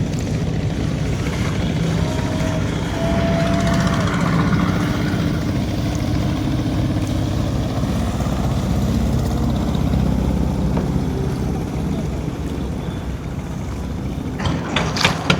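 Launch and trawler boat engines drone steadily on the Buriganga river in Dhaka, a continuous low rumble with a faint whine, moderately near and unbroken.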